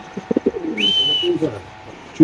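Caged pigeons coo at a busy pigeon market among racing pigeons, several soft coos rising and falling close by, with a brief high chirp midway and a louder coo at the end.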